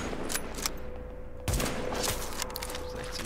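Sniper rifle shots ring out in a firefight in the shooter game Tom Clancy's The Division, with sharp cracks early and a heavier blast midway amid scattered gunfire, fairly faint overall.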